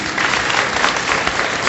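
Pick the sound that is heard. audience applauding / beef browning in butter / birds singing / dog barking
audience applauding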